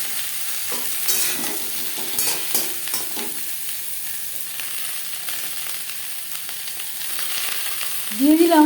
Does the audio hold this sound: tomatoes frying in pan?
yes